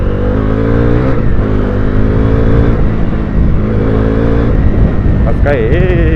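A Bajaj NS400Z motorcycle in sport riding mode accelerates hard, its engine note rising loudly and steadily up close, with a voice talking over it.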